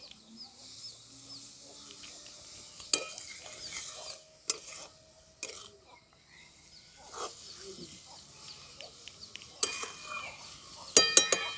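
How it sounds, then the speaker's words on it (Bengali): Papaya being stirred with sugar in a pan, giving scattered soft scrapes and clinks of a utensil against the pan at close range, with brief louder knocks and quiet gaps between them. "চিনিটা আমি এই পেঁপের সাথে খুব ভালো করে মিশিয়ে নিচ্ছি।"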